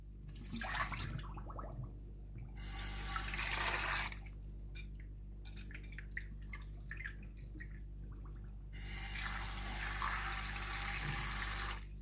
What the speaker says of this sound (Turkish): Arkadaşlar şimdi patateslerimizi yıkacağız.